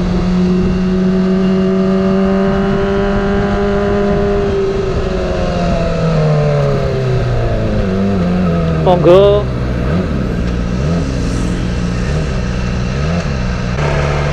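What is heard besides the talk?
Kawasaki ZX25R motorcycle with Ayam Geprek exhaust revving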